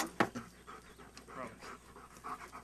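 A dog pants rapidly and rhythmically close by during an egg-hunting game, with quick breathy puffs and a sharp sound near the start.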